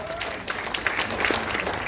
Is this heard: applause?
yes